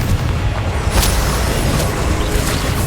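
A Confringo fire spell from the Hogwarts Legacy video game bursts with a loud, dense boom that holds as a sustained rumbling roar, with sharp crackling flares about a second in and again near the end.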